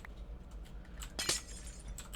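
A glass block shatters in a video game, a short bright crash with a few scattered tinkling bits around it, quiet against a low background hum.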